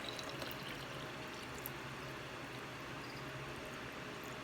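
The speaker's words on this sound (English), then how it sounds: "pour in the water" Distilled water pouring from a gallon jug into a jar holding rosemary sprigs and stems, a steady, continuous faint trickle and stream heard alone at close range.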